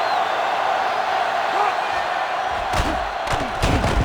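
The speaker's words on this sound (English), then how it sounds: "They're really struggling now as this crowd is going absolutely insane." A football stadium crowd roars loudly in a steady, dense wall of cheering, broken near the end by a few sharp slams and whoops.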